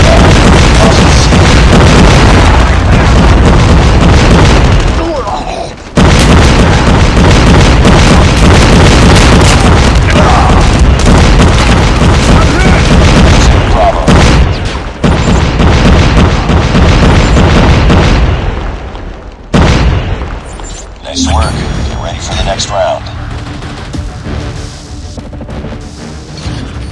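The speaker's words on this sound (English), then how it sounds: "Predator missile inbound." Loud, heavy blasts from predator missile strikes in Call of Duty Mobile multiplayer, a near-continuous roar of booms and crashes that briefly drops out and then fades into scattered, quieter rumbling near the end.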